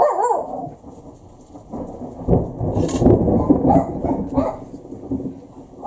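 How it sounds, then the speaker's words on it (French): Thunder rumbling during a summer storm, deep irregular rolls that build and fade with a sharp crackle in the middle, mixed with rain and a dog's bark. "Ça tonne."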